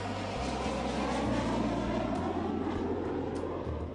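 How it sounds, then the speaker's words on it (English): Shuttle training aircraft flying practice approaches to simulate shuttle landings at Kennedy's shuttle landing facility, a steady, loud jet roar with a low hum, sustained and unbroken with no talk. "practiced touching down at Kennedy's shuttle landing facility using the shuttle training aircraft to simulate the shuttle's unique characteristics"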